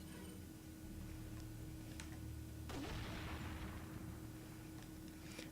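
A single gunshot from the video game Resident Evil 4 cracks out midway, fairly faint over a steady low hum, with a brief tail afterward.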